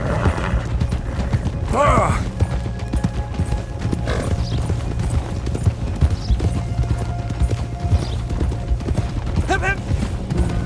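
Hooves of a Dark Bay Andalusian horse being ridden in a video game clop in a steady, close rhythm across a gritty ground bed, with a couple of whinnies breaking through along the way.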